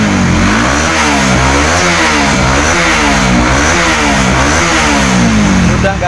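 A Honda CB150R motorcycle engine, its fuel injector freshly cleaned, revs up and down repeatedly in close, loud, rhythmic throttle blips, rising and falling about every second over a steady idle, with no talking.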